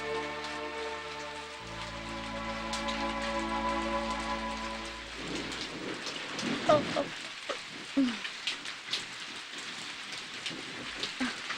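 Steady rain pours down throughout, a dense hiss with drops striking surfaces nearby, first under sustained music and then with scattered heavier splashes and a few bumps as the music stops.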